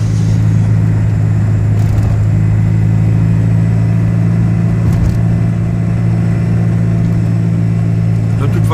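A Ligier JS50 microcar cruises along a road at about 46 km/h with a constant mid-pitched engine hum and road noise, while a person talks inside the cabin.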